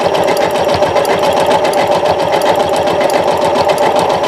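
A sewing machine stitching a rolled shell-edge hem in fabric, a loud, close, continuous rapid mechanical whirring and clatter with no pauses.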